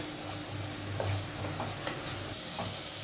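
White channa masala sautéing in a pan, giving a soft, steady sizzle broken by light stirring scrapes and a few small taps, fairly close and without voices.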